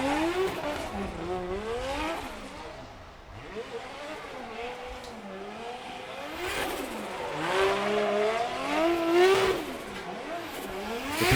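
A drift car warms its tires at a Formula DRIFT Top 16 battle at Okuibuki, with the engine revving and wailing through rising and falling pitch sweeps while tires squeal, loud and sustained with no voices.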